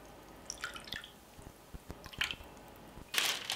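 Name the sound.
water poured over meat in a bowl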